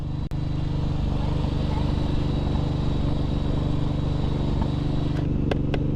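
A Suzuki M109R motorcycle cruising with a child riding as passenger, a steady loud engine rumble with wind noise running throughout and a few brief clicks and knocks.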